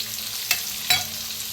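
Peanuts fry in oil with onion and asafoetida, a steady close sizzle broken by two brief scraping stirs.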